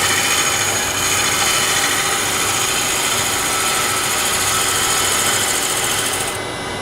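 A wood lathe spins a bowl blank while a bowl gouge takes fine, small shavings, giving a steady, continuous whirring hum with a thin high hiss that runs unbroken, then drops off right at the end.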